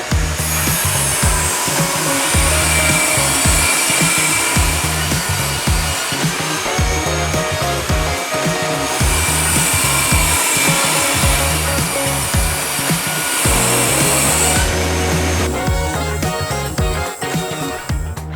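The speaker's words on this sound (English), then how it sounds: "simply eyeball it through my table saw, followed by a quick pass on the planer to flatten everything out." A table saw rips through wooden joists for a rustic scrap-wood wall, giving a loud sustained whining cut in long passes, followed by a thickness planer flattening the boards with a dense, steady roar.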